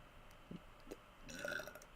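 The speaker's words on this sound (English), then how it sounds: "Oh, I just burped." A short burp from a person gaming, sounding as two brief low bursts near the middle of a quiet room, followed by faint mid-pitched electronic tones from a Minecraft Legacy Console Edition game.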